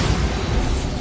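A Bombarda blasting spell explodes in the Hogwarts Legacy video game: a dense, loud, sustained low rumbling burst that fills the whole moment with no gaps.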